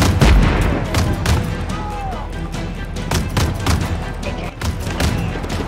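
Gunfire in the video game Just Cause 3, a loud battle of repeated sharp shots and heavy booms in irregular bursts, close and distant weapons overlapping with no letup.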